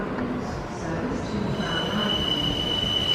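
DB Cargo class 66 locomotive 66082 hauls an engineering train through Llanharan station, with a steady rumble of wheels and a thin, high wheel squeal rising in the second half.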